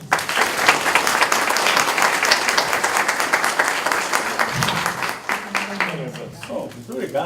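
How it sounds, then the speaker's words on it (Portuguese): A lecture audience gives a long, dense round of applause for a friar's talk on the Fatima secret, loud and sustained, fading slightly near the end as a voice begins to speak. "uma salva de palmas para ele."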